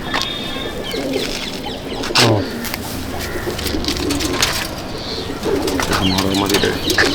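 Madrasi pigeons coo in repeated soft, throaty bursts near the microphone, with a brief wing flutter and faint background chatter in a pigeon loft in Liluah, Howrah.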